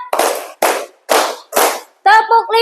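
A classroom of students claps together in four sharp, loud, evenly spaced bursts, each ringing briefly, followed by a voice speaking.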